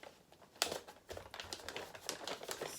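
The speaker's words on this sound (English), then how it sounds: "Fold in the other side." Christmas wrapping paper being folded over a gift, with soft crinkling and crisp paper creases in a few quick bursts, close and fairly quiet with no talking.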